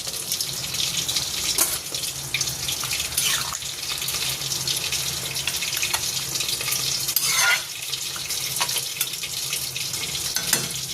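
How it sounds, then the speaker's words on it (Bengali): Fried vegetables and bori lentil dumplings go into a pan of bitter gourd curry, bringing a continuous hiss and sizzle with scraping stirring and wet splashy movement throughout, loud and close. "এবারে ভাজা সবজি বড়ি সব ঢেলে দিই।"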